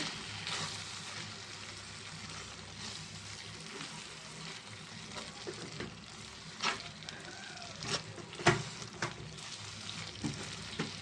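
Snail and tomato curry cooking with chili powder and coriander powder while being stirred, a steady soft sizzle with occasional scraping clicks of a spoon against the pan, quiet and close.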